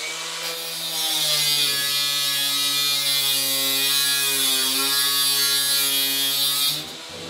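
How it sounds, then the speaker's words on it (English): An angle grinder cuts a 13.5-inch metal hinge for a wooden box lid. It makes a loud, steady, high-pitched whine that rises when it bites, holds for several seconds, then spins down. Nobody talks. "I'm going to cut it with my angle grinder."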